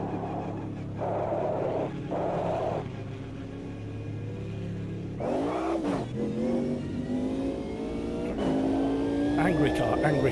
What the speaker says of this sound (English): Angry car, angry car, angry car.